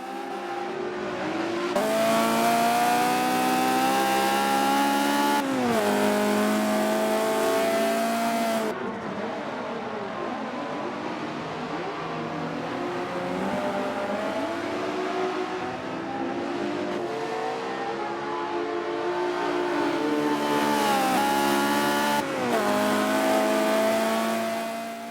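Big Camaro V8 race cars in the Forza racing game roar steadily throughout, revving and shifting with harmonic engine tones that rise and drop, loud and continuous with no talking.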